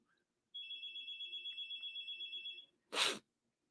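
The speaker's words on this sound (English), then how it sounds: "We have a phone call." A telephone rings with one sustained electronic trill lasting about two seconds, clear and alone, followed a moment later by a short, loud burst of noise.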